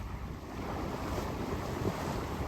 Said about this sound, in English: Just as well we have an engine that works